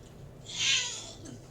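A person imitating a cat, a single breathy, high meow-like cry swelling and fading within about a second, fairly faint and close.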